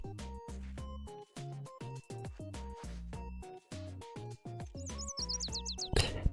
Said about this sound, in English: The music of birds playing and chirping joyfully.